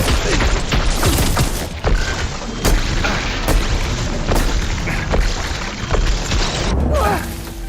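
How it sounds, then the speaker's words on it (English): Loud weapon fire and booming explosions from the action game Horizon Forbidden West: Burning Shores, dense repeated bursts and blasts that keep up almost without pause. "I love shooting!"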